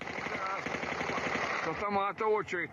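Rapid rattling bursts of automatic gunfire echo from a distance, aimed at an aircraft during an attack on a Russian air base, then a voice speaks briefly as the shooting continues.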